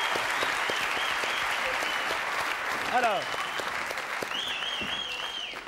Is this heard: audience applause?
yes